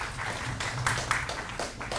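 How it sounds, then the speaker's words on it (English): Scattered audience clapping comes through as a faint, brief patter of applause. "Yes, you can applaud that."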